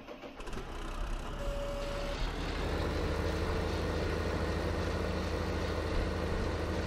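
Tractor engine in Landwirtschafts-Simulator 2015 revving up from idle to a steady, loud low drone that holds throughout, with a short tonal beep early on.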